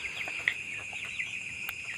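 Chickens on a poultry farm cluck softly and repeatedly over a steady background hum, scattered short calls rising from the flock without any talking.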